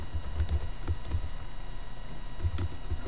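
Typing on a computer keyboard: a run of close, crisp key clicks in uneven bursts, with short pauses between clusters, heard alone with no talking.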